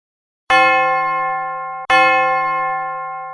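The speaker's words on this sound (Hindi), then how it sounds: "अब ये घंटियां बजनी शुरू हो गई है" The church bell of Christ Church in Shimla rings twice, each strike a clear metallic clang with long, slowly fading overtones, loud and alone.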